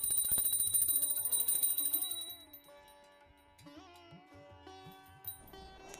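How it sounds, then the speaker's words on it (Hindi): A small hand bell rings during a Hindu prayer ritual with bright, sustained metallic tones that fade and repeat, fairly close, alone without speech. "और घंटी बजा दें।"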